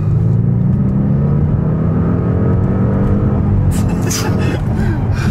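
A 700 BHP Audi S8 pulls hard in third gear, its engine note droning and rising steadily from inside the cabin, loud and continuous, with a brief higher whine near the end.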